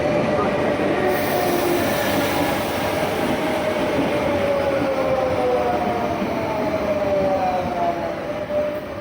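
A regional R11 train rumbles steadily at a station on the line toward Barcelona-Sants, with a loud continuous roar and a rising, whining tone as it moves along the platform.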